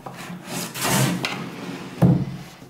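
A repaired wooden furniture drawer, a loose and wobbly piece fixed with butterfly joints, slides along its runners with a rubbing wooden scrape, then closes with a firm knock near the end, close and fairly loud.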